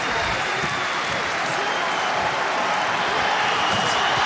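A boxing arena crowd roars steadily during Wladimir Klitschko vs Eddie Chambers, a dense, loud wash of cheering and clapping without a break.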